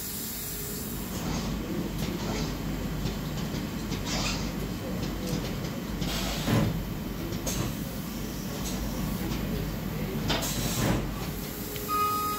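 A 5-axis CNC machine mills a knife blade at 25,000 RPM, giving a steady hiss and whir with repeated brief bursts of cutting noise, close and continuous with no talk.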